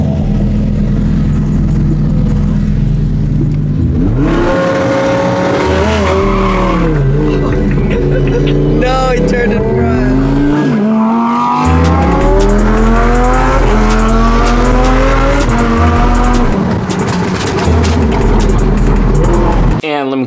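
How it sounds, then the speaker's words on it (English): Fast cars race close by, engines revving and climbing in pitch with tire squeals and skids, loud and continuous with brief gaps as the cars accelerate and brake. "Now we're back on the ground with the cars because that's what we do"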